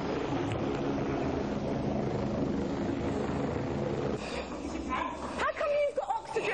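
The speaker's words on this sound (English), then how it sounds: "Listen, I can still hear the helicopter." Steady droning rotor and engine noise fills the air throughout, continuous and fairly loud, with some shifting sounds toward the end.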